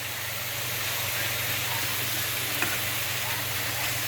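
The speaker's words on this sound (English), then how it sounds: "we're just going to stir that around" Steady sizzling of vegetables frying in a pan for keto flank steak fajitas, being stirred, with a continuous close hiss and a low hum underneath.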